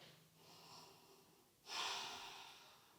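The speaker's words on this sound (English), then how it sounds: "Breathing." Slow, deep breathing during a seated yoga balance pose, a soft exhale followed by a louder, fuller breath that fades out, close and quiet with no talking.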